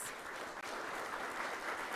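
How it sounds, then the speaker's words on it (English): An audience at an annual general assembly opening ceremony applauds in a steady, dense wash of clapping lasting about two seconds, moderately quiet, with a tiny gap partway through. "Let's give these legends a round of applause."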